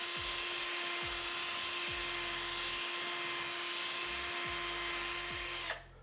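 Power drill boring out rivets on a computer case during a teardown: steady, loud whine running continuously, with repeated low bursts as the bit bites into each rivet, then stopping abruptly near the end.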